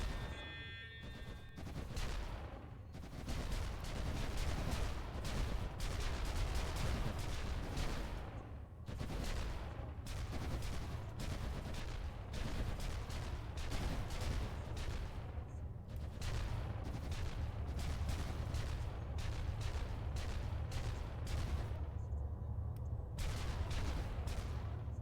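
Heavy cannons firing at fighter craft in the strategy game Executive Assault 2, a steady barrage of repeated thudding shots and booms running continuously over a dense rumbling battle din.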